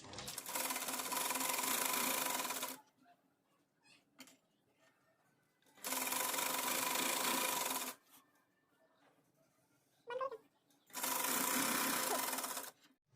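A sewing machine stitches a trouser drawstring in three steady bursts of about two seconds each. The bursts are separated by quiet handling noises, with no talking.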